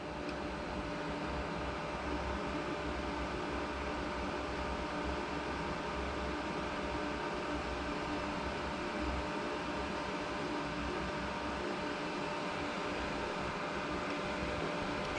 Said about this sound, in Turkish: Şu anda makine otomatikte çalışıyor